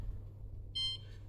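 An oven timer being set gives a brief cluster of high electronic beeps, quiet and close, over a low steady kitchen hum.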